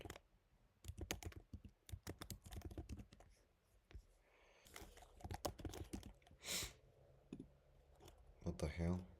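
Rapid clicking of keys on a QWERTY computer keyboard, typed in quick bursts with short pauses, close and fairly loud, with a person talking intermittently over the keystrokes.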